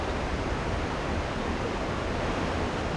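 River water near Bukal Falls in Liliw, Laguna, Philippines, rushing as a steady, loud, broadband roar with no pauses and no voices.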